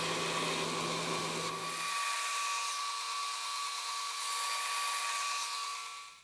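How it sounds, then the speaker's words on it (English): High-pitched whine of a belt grinder working a stainless San Mai hunting knife blade to a 400-grit finish, steady and close, with the low rumble falling away partway through. "got that blade ground up"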